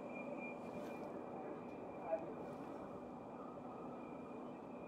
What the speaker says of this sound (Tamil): ட்ரெயின் பாருங்கள் எவ்வளோ ஸ்பீடில் போயிட்டுருக்கு.